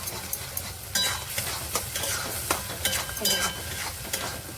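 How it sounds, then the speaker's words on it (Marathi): A spoon stirs masala frying in oil over a low gas flame, giving a soft continuous sizzle broken by regular scraping strokes against the pan. The sound is close and steady, with no voices. "याला तेल सुटेपर्यंत आपण असं हलवत राहायचं याला आपण तेल सुटेपर्यंत दहा पाच मिनटं ठेवून देऊया गॅसवर बारीक गॅसवर"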